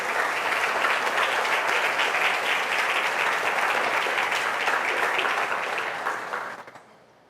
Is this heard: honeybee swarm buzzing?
no